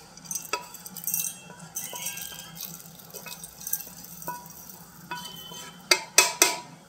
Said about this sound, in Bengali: এইবার আমি এটা মিক্সির জারে ঢেলে দিচ্ছি